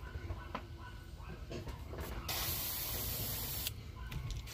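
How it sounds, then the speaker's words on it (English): An airbrush sprays opaque white paint over a hard fishing lure, giving a continuous close hiss that grows louder partway through. No one speaks. "just hold this bait flat and just spray that white over it at an angle"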